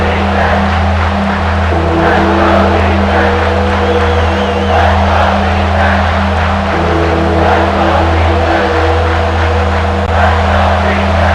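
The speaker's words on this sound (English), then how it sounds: "This crowd is trying to inspire this defense to make a big red zone stop." A dense, steady roar of a large stadium crowd in a college football video game, filling the whole stretch, a constant wash of cheering with a low rumble beneath it as the defense faces a red zone third down.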